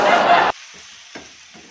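Bitter gourd (ampalaya) frying in a pan gives a loud, hissing sizzle for about half a second that cuts off abruptly, followed by a few faint, scattered clicks and scrapes.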